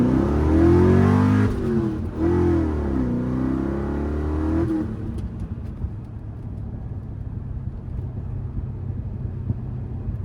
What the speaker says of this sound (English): First gear tire spin, I was kind of all over the road.